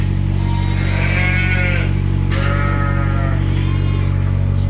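Ewes and lambs in a cold farm pen bleat loudly, two or three drawn-out calls rising over a constant heavy low hum from nearby machinery.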